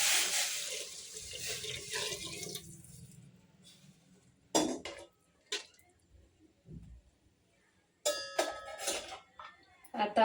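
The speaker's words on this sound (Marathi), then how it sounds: "गरम पाणी टाकतोय त्यात," Hot water pours into a pan of sautéed pav bhaji vegetables, a running, splashing stream for the first few seconds, then scattered clinks of utensils and brief splashes follow.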